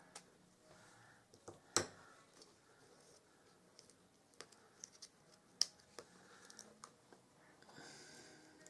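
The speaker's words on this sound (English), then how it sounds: "I'm just going to snip it there" Scissors snip while Christmas crafts are being wrapped, giving a few sharp, isolated clicks spread through an otherwise quiet stretch, close by and fairly faint.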